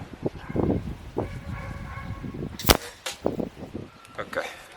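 A sharp single shot from a Walther LGV Master Pro .177 break-barrel air rifle fired outdoors in light wind, a crisp crack standing out briefly midway amid background rustling, faint voice-like sounds and a dog nearby.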